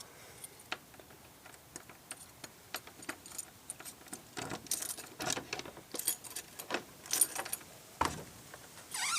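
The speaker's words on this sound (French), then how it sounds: "Donc je vais ouvrir ces toilettes." A toilet door being unlocked and opened, with metallic clicks, rattles and latch clatter in a quick irregular series, fairly close and moderately loud.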